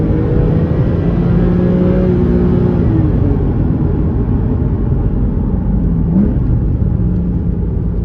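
A Porsche Cayman 981 S engine runs loud and steady while driving, with a low rumble and rising whine as it revs high, close by throughout.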